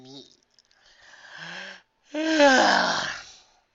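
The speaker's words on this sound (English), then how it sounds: "Trixie answered, yawning." A narrator voices a long, drawn-out yawn in a female character's voice, a brief breathy lead-in followed by a louder, rising and falling open-mouthed yawn that fades out, close and clear with no other talk.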